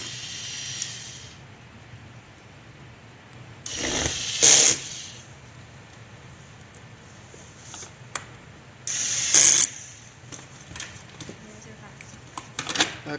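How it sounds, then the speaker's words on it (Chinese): Screws driven into the bumper cover of a Proscenic laser-navigation robot vacuum: two short, close ratcheting bursts of screwdriver clicks stand out against a faint, hissy room background, with a few scattered taps between. "然后锁上防撞盖上面的螺丝"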